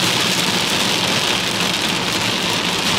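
Rain drums on a car from inside, a loud steady dense patter and hiss covering the whole stretch without pause or voices.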